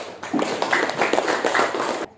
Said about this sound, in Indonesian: tepuk tangan untuk Sinta